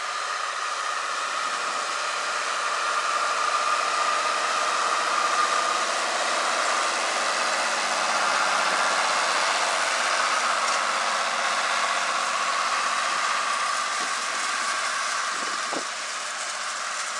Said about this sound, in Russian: Трактор 12-21 Белорус.